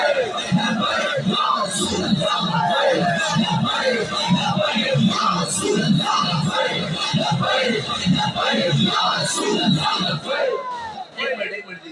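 A large crowd at a religious gathering chants the Labbaik slogan in loud, rhythmic, repeated shouted bursts. The chanting is close and sustained and starts to thin out near the end.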